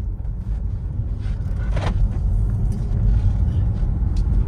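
A BMW 116d diesel hatchback drives along a road, giving a steady low rumble of engine and tyre noise from inside the car, with a brief higher whoosh partway through.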